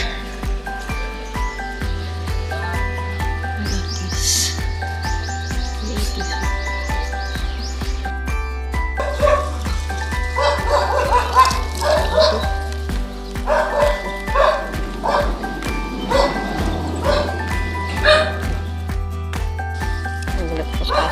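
A dog barks somewhere out on a neighborhood street during a morning walk, giving a few sharp, fairly faint barks. A person speaks over them, and there is other street noise around.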